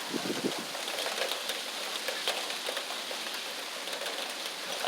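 Heavy rain pours down in a steady, dense hiss with scattered drops spattering on surfaces, continuous and without any voices.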